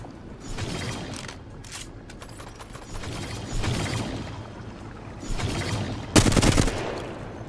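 Bursts of automatic gunfire in Apex Legends come in several rattling volleys of varying length, the loudest and sharpest near the end, over a bed of mechanical game sounds and with no talking.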